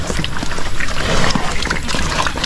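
Water flowing steadily on a farm, a loud, close, continuous rushing and gurgling with no voices over it.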